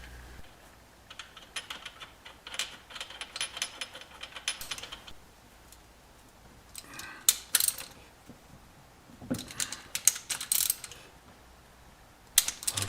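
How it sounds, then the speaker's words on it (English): A ratchet clicks in short bursts while case bolts on a 1973 Honda CB750 engine are torqued down. The quiet, close mechanical clicking comes in separate clusters with pauses between them. "get some case bolts in there and torque them up"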